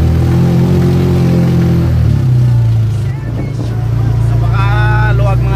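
A Honda Click 150i scooter converted to a three-wheeler hums steadily on a test ride, its engine drone shifting pitch partway through, with wind rush and brief voices over it.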